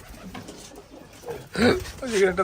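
At a pigeon farm, low pigeon coos rise briefly between spoken voices, a couple of rounded calls heard close by.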